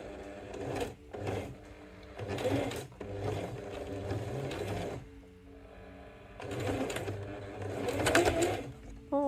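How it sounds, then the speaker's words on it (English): A sewing machine runs a seam on a zipper travel pouch, its steady mechanical whirr running in long stretches with a short pause partway through, loud and close. "I can pull my 2 threads just lightly out the back as I start my stitch."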